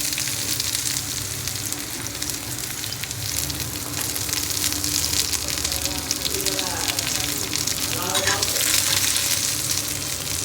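Onion and garlic fry in a pan for a roasted red chutney, a steady close sizzle with occasional stirring and a voice speaking faintly partway through.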